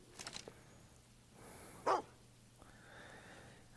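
A dog in the Fable 2 video game gives a single short bark, with faint game ambience around it and a soft sound at the very end.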